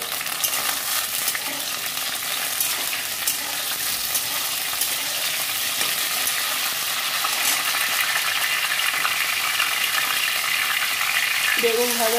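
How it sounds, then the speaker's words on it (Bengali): Eggplant frying in oil in a pan, a steady, continuous sizzle that stays even and fairly close throughout, with no talking. "বেগুন ভাজা হয়ে গেছে, তুলে নেব।"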